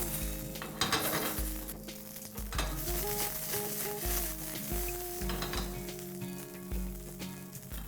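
Vegetables tossed with cauliflower in a hot pan for Bengali bhoger khichuri, sizzling steadily with repeated clinks and scrapes of a utensil against the pan, fairly close and moderately quiet.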